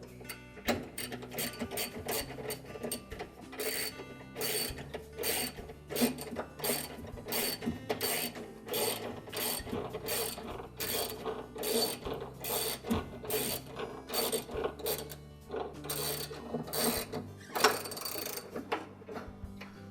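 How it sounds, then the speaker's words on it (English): A ratchet wrench tightens the drive pulley nut on a Whirlpool washer, giving a long run of rhythmic mechanical clicks, close and fairly quiet with no talk. "And just hold that pulley as you tighten that nut."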